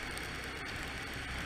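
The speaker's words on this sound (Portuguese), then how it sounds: "Sexta-feira garoando." Light drizzle falls outdoors on a Friday, heard as a constant, even hiss of fine rain with a soft patter on surfaces and no voices.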